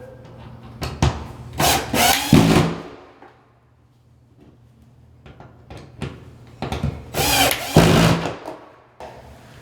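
A power drill drives screws into a closet shelf in a walk-in closet, with two loud whirring bursts separated by a quieter stretch of faint rubbing and handling sounds.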